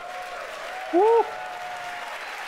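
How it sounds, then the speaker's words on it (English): Crowd applause rolls steadily throughout during a Falcon Heavy launch, with a single loud cheer rising briefly above it near the middle. "you can hear the applause behind me as we've gotten past maximum dynamic pressure"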